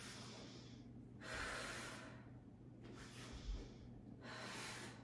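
A person breathing through a core exercise of heel slides: three forceful, airy exhalations spaced about a second and a half apart, close and soft, with quiet pauses between.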